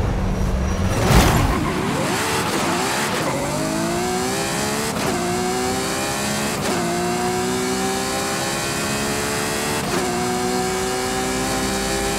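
A 2019 Ferrari F8 Tributo engine roars in Forza Horizon 5, revving up after a burst at the start and climbing through several rapid upshifts, each briefly dropping the pitch before it rises loudly again.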